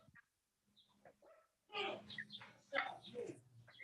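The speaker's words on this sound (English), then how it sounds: "my dog downstairs barking" A dog barks downstairs in a house, coming through as several muffled, fairly faint barks with some softer yips in between, picked up over a meeting call microphone.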